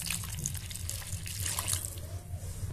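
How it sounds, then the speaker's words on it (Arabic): Water is poured from a glass into a tray of potatoes, giving a continuous splashing trickle over a low background hum. "عليهم بنص لتر من الميه، حوالي كوبايتين او 3 كوبايات ميه"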